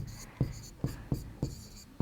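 Chalk or marker strokes on a classroom board come in short rhythmic taps and scratches at a steady pace, close and fairly quiet, with a voice murmuring faintly underneath.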